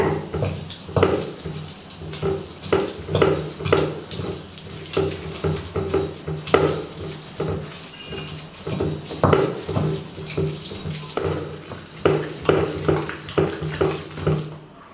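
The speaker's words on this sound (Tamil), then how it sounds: "நான் உரலுங்கிறதுனால இது போல் ஆட்டி காமிக்கிறேன்" Onion kara chutney is ground by hand in a small stone ural mortar, with steady rhythmic wet scraping and knocking strokes repeating close up for about fifteen seconds and no talk.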